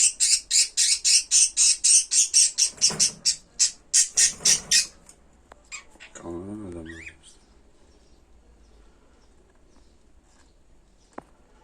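Cockatiels give a rapid run of loud, sharp squawks for the first five seconds, then the calls stop and only faint scattered chirps and a brief low rustle remain, with no talk.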